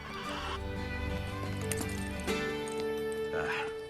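A horse in Assassin's Creed: Brotherhood rears and gives a loud, drawn-out neigh, with hoof clip-clops and game music playing underneath.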